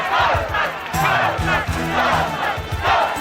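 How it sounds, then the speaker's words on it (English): A large crowd in the street chants the word Ghostbusters in a film scene, rhythmic repeated shouts under a continuous layer of crowd noise. "On the same street, a crowd chanted the word Ghostbusters."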